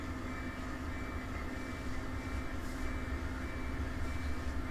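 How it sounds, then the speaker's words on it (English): A train rumbles past in Run8 Train Simulator, a continuous low rolling roar with a steady hum, moderately loud and alone. "should have a train in the background"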